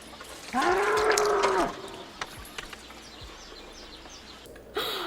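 A bull gives one loud, close, sustained moo lasting about a second, then faint bird chirps sound in the background before another moo begins at the very end.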